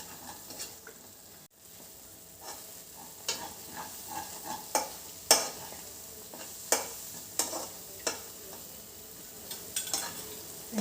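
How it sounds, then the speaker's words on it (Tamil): Almond kesari is stirred in ghee in a pan, with a steady soft sizzle under repeated scraping and clinking strokes of a spoon against the pan, close and fairly quiet, with no one talking. "அதையும் நல்லா கிளறி கொடுத்துக்கிட்டே இருக்கலாம்."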